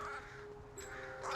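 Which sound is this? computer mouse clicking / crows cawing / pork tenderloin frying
crows cawing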